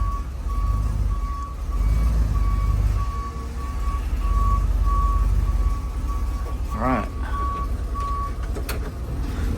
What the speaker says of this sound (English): Okay, we're in the truck, we're backing up.